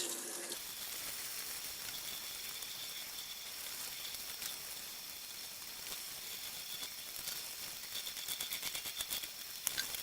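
Running tap water splashes steadily over ice-dyed fabric being rinsed out, a continuous close hiss with faint dripping and spattering, no voices.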